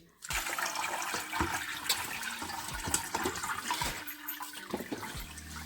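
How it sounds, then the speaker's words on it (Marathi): Water rushes steadily through a sieve as washed rice is drained, a continuous splashing pour with occasional soft knocks, close by. "आता हे पूर्ण तांदूळ चाळणीमध्ये वसून घ्यायचे"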